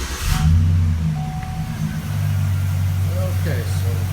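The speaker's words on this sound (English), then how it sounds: "Okay, so go ahead and got her started up here" A Chevrolet Silverado 5.3 V8 with a lifter tick idles steadily after starting, a close, even engine drone with faint tapping, while someone talks over it.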